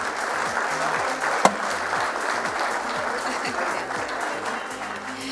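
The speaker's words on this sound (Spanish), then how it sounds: "le damos un fuerte aplauso" An audience at a sports business conference in Argentina applauds in a steady, even wash of clapping that fills the whole stretch, with one sharp louder clap standing out early on.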